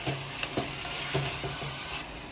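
Oil sizzles steadily in a pan while a utensil stirs, scraping and clinking a few times over the constant frying hiss.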